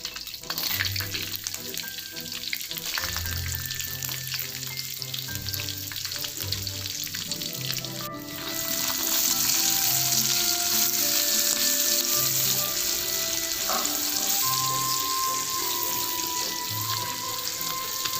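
Shallots and garlic sizzle loudly in a pan of leftover stir-fry oil while cooking butter chili chicken, a steady close frying hiss with scattered clinks of the utensil against the pan.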